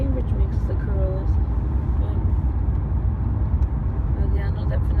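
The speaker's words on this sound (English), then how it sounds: "So I'm in a really nice car. I think it's a Toyota Corolla." Steady low road rumble inside a moving Toyota Corolla on the way to Guangzhou airport, loud and continuous engine and tyre drone with faint muffled voices in the cabin.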